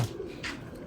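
A short soft coo from a dove or pigeon, close by, with a faint background hum.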